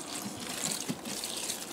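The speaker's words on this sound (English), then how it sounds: "And then we're going to give it a drop of water," Water poured onto compost in a plastic storage bin, a faint, short trickle of liquid with a soft splashing hiss, heard alone.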